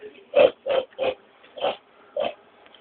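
A pig oinking as a sound effect, five short grunting oinks in a steady, evenly spaced rhythm, close and clear against a quiet background with no talk.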